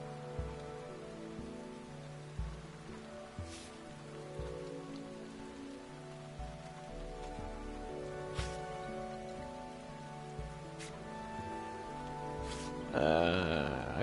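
Rain falling steadily on outdoor surfaces, a soft continuous patter with scattered louder drips and a few sharp taps, with a brief louder rustle near the end.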